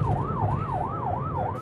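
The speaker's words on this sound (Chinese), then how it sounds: "救护车先是鸣笛，又按喇叭，没想到内置车道货车不让就是不让。" An ambulance siren wails in a smooth, regular rising and falling sweep, several cycles in quick succession, loud and close over a low vehicle rumble; no distinct horn blast stands out.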